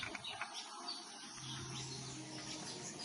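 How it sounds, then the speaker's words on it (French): Wild birds chirp inside a chicken farm building, faint and scattered over a steady indoor hum. "Regardez comment il y a les oiseaux dans le bâtiment."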